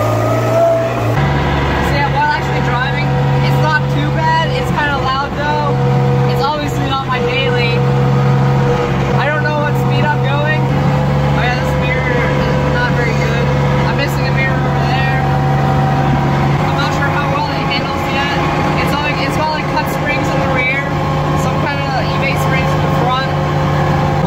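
Constant engine drone and road noise from a Toyota Corolla cruising at steady speed, loud and close throughout, with voices talking over it.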